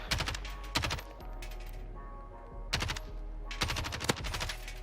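Bursts of automatic gunfire ring out in a Call of Duty Warzone match, several sharp rapid volleys separated by brief pauses, loud and up front, with no one speaking.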